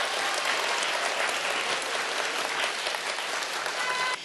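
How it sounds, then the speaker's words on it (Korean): Dense audience applause at a high-school science quiz show, a continuous even wash of clapping for about four seconds before cutting off abruptly. "박수 한번 부탁드릴게요."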